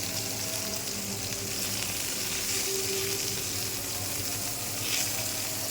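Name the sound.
cauliflower and potatoes frying with turmeric in a pan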